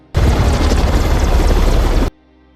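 Helicopter in a war film scene in Syria, a loud dense rotor roar with booming low-end rumble that starts abruptly, holds steady for about two seconds, then cuts off sharply.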